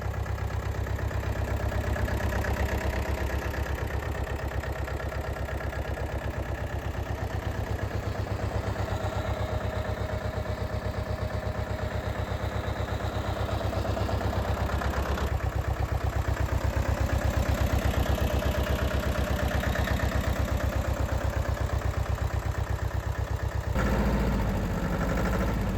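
A used four-wheel-drive 24 hp tractor with power steering idles steadily, a constant low engine drone with a slight clatter, nearby and unchanging, with no one talking.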